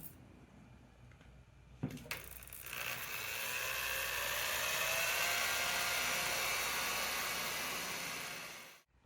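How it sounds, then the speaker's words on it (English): A power drill mixing ceramic glaze in a dip bucket whirs steadily for several seconds after a couple of sharp clicks, close and fairly loud, then stops abruptly. "and mix it up with my drill."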